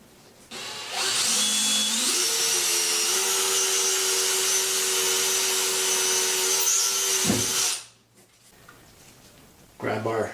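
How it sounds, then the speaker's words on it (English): Cordless drill starting a hole with a Phillips bit while installing a towel bar, a close, loud whirring run of about seven seconds that rises in pitch, then stops, with a brief buzz near the end. "start the hole with the Phillips bit"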